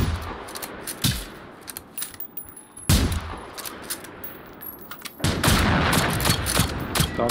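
Gunshots in Generation Zero, single sharp cracks and short bursts spaced irregularly over the first half, then a denser, louder stretch of rapid fire at the end.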